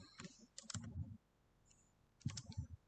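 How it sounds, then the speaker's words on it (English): Typing on a computer keyboard in two short bursts of quick, close key clicks with a brief pause between them, fairly quiet and heard alone. "let me actually type what I need to mention it here"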